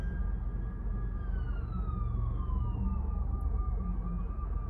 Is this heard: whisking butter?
no